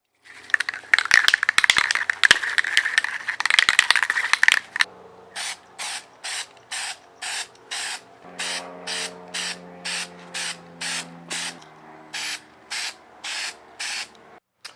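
Spray paint hisses onto a car's interior trim pieces in a DIY job on an Infiniti G35: a long dense burst first, then a steady run of short, evenly spaced spray bursts close to the mic, with no talk.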